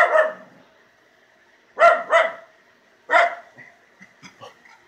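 A miniature schnauzer barks in short sharp bursts: one bark, a pause, a quick double bark, then another, followed by fainter yips, close and loud in a quiet room.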